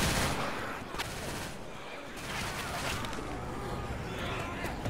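Rapid gunfire rattles almost nonstop through a Left 4 Dead 2 co-op firefight, dense bursts overlapping at steady loudness while players call out beneath it.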